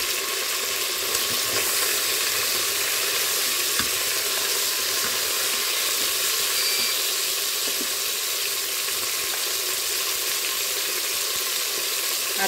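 Chopped onion frying in a Cookeo electric pressure cooker, a steady bright crackling sizzle that holds evenly throughout, close and moderately loud.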